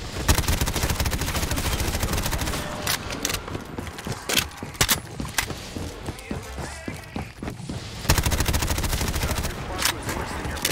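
Full-auto gunfire in a Call of Duty Zombies map set in a restaurant: dense, rapid bursts of shots rattle loudly throughout, with brief pauses and clattering effects between volleys.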